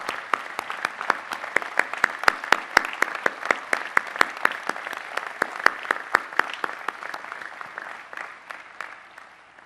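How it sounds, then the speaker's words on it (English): Crowd applause for graduates at the 2003 Rensselaer Polytechnic Institute commencement, a large ceremony: a sustained wash of clapping with distinct, sharper individual claps standing out over a softer background, moderately distant and continuing without any voices. "Please join me in a round of applause to these outstanding graduates."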